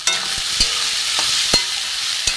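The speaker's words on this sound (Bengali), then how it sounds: "এটা একসাথে আমি কষবো ভালো করে, দেখতে থাকুন।" Fish sautéing in a pan with grated potato and ginger gives a loud, continuous sizzle and frying hiss, with a few sharp scraping clicks of a spatula against the pan, no voices present.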